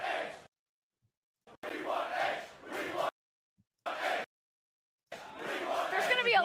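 A wrestling arena crowd chanting and singing together in loud, cut-off bursts separated by sudden silences.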